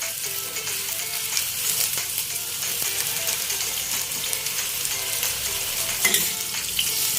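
Pieces of long eggplant fry in hot oil in a pan, a continuous crackling sizzle with small pops and spatters, close and steady without talk.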